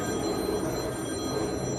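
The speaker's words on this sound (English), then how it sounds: "phone's going. It's going crazy. The phone never stops." A telephone bell rings continuously at a convention, a steady electronic trill holding at moderate level throughout with no pause, alone without talk.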